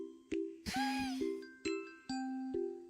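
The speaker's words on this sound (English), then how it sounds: "That was the sound of blood spurting from Rena's nose." Comedic cartoon sound effect for a spurting nosebleed in a Higurashi When They Cry reading: a quick series of bright chiming tones with a wobbling whistle-like swoop near the start, crisp and isolated.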